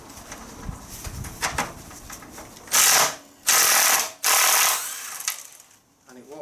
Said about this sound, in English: rattle guns, best tool ever